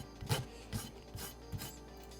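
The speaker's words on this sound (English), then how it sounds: "It's a fairly coarse file." A coarse file rasps across a plastic Gundam model kit panel in four slow, evenly spaced strokes, each a short scratchy rub, close and quiet.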